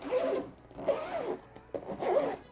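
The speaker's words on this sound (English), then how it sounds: "if you guys zip this back up" A zipper is pulled in three quick raspy strokes around a carry-on suitcase, close and clear, with short pauses between the pulls.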